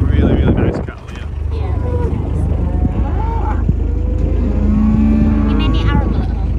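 Cattle mooing outdoors on a British farm: a couple of long, low, loud moos close by, with steady wind buffeting the microphone and some background voices.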